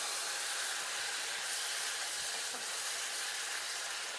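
Beef stir-fry with peppers and onions sizzling steadily in a pan, a continuous broadband frying hiss with no talking.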